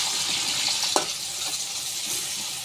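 Onions and green chilies frying in hot oil, a steady sizzle with a brief sharp clink of a stirring utensil partway through, close and alone without any talk.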